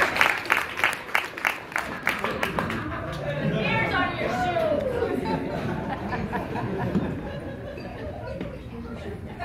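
Diners at a Burns supper in Anchorage clap in a short burst of sharp, rhythmic claps. The clapping then gives way to loud crowd chatter and laughter, with voices talking over the room.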